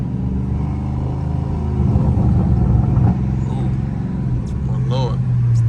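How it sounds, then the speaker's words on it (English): A Dodge Charger Scat Pack drives and slides through rainy traffic, its engine rumbling steadily from inside the cabin and swelling briefly as it revs, with someone talking over it and a short whoop near the end. "Sliding in traffic in the rain."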